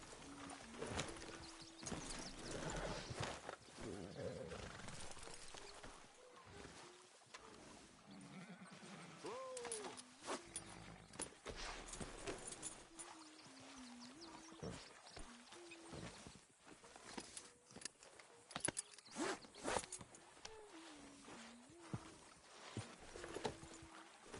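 Horse hooves clip-clop along with an occasional whinny in the Red Dead Redemption 2 video game, over a busy bed of ambient game sound and intermittent voices, steady but moderately faint throughout.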